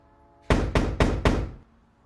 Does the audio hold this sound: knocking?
yes